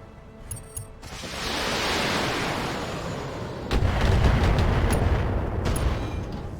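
Trebuchet mech firing a missile salvo in a MechWarrior game: a few light clicks, then a long roaring whoosh of rockets, followed by a louder, heavier rumbling rush of impacts that stays loud to the end.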